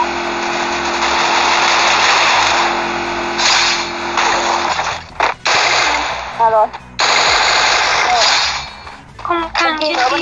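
Sustained automatic gunfire in the mobile battle royale game Garena Free Fire, loud and continuous at first, then breaking into shorter bursts with gaps, with voices faintly underneath.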